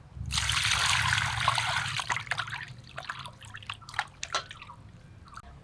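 Katla fish pieces rinsed in water, a close splashing pour at first that gives way to scattered trickles, drips and light clatter, with no talk.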